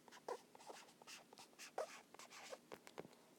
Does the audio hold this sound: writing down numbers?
yes